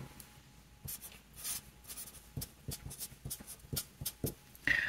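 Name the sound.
writing below a table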